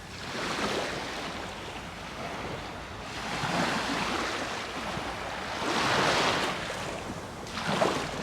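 Surf washing ashore at Palmanova beach in Mallorca, a steady broadband roar that swells and recedes in slow waves, with wind buffeting the microphone and no voices.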